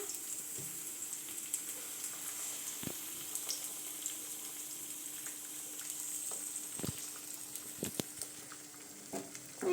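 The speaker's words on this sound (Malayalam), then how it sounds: "എഗ്ഗ് അതിൽ കൊഴിച്ചെടുക്കാം" Beaten egg sizzles in a hot pan as an omelette begins to cook, a soft continuous frying hiss with occasional faint clinks and taps close by, no voices.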